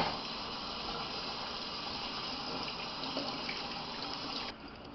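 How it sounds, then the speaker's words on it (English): A kitchen tap pours steadily over beef back ribs as they are rinsed, a close, continuous hissing rush of water that drops off slightly just before the end, with no talk. "first thing we'll do is give them a little rinse."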